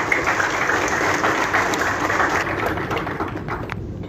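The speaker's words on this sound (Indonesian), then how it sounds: "Mari kita tepuk tangan untuk Ketua Umum." A crowd at an advocates' inauguration ceremony in a Kupang hotel claps steadily in a dense wash of applause that fades toward the end.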